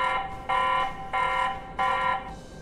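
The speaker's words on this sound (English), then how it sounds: "The next thing that we got here is the alarm." A TP-Link Tapo C110 camera sounds its alarm siren: a loud, piercing electronic tone pulsing on and off in regular beeps about every second and a quarter, close and alone with no talk.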